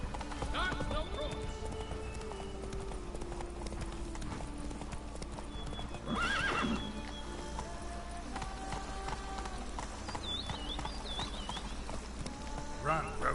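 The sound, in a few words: horse Roach galloping in The Witcher 3 video game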